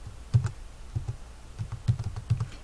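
Fingers type on a computer keyboard, quick clusters of soft close key clicks and taps with short pauses between them.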